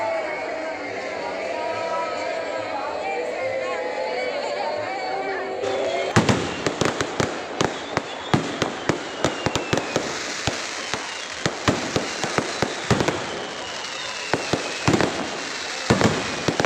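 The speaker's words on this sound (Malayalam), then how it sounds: "കണിച്ചുകുളങ്ങര വെടിക്കെട്ട് അതിപ്രശസ്തമാണ്" Kanichukulangara temple fireworks at night: after a crowd murmurs, a rapid series of sharp bangs and crackles bursts out, loud and close, continuing irregularly over chatter.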